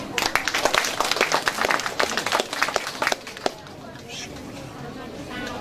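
An audience at a multicultural family festival in Muan County, South Korea, applauds school award winners with brisk clapping for about three seconds, then it dies away to quiet room noise.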